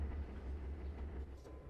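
A freight train of boxcars coming to a stop in the video game Trainz Simulator 3, a faint low rumble of wagons and engine throbbing steadily with light metallic sounds near the end.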